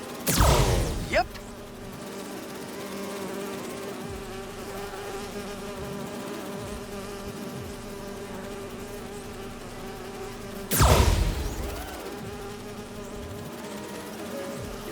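Steady, continuous buzzing of bees in Marvel's Spider-Man 2 drones on for the whole stretch, with two brief louder bursts near the start and around the eleven-second mark, no talking over it.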